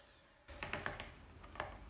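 Eggs and bananas being whisked together for banana cupcake batter, a short burst of irregular clicking and tapping strokes after a quiet start, close and fairly faint.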